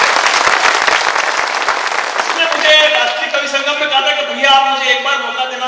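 Applause from the audience at a Hindi comedy poetry gathering (kavi sammelan) rolls in as dense, loud clapping, then thins out while a voice speaks over it.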